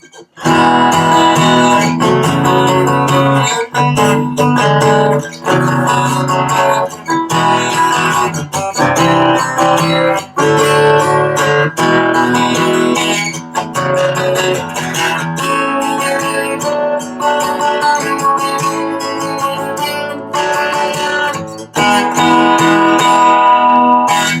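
An acoustic guitar played loudly through a Fishman Loudbox Mini amp, continuously strummed chords with a full, ringing tone, no speech.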